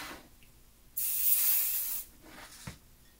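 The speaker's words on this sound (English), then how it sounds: "If you use too much basting spray, you can create a serious problem with your machine" A single hissing burst from an aerosol can of fabric basting spray, about one second long, close by, with quiet room noise before and after.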